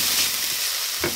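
Chopped onion sautéing in a pan over medium-high heat, a steady close sizzle throughout with a soft stirring scrape near the end.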